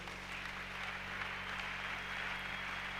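A church congregation applauds steadily and warmly, a dense sustained clapping that fills the whole space without pause, with a low hum running underneath.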